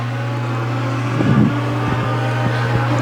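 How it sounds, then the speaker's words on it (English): Legends race car engine droning steadily on a track during a feature race, a constant low mechanical hum with brief revving surges and clunks layered over it. "Johnson gets the car rolling."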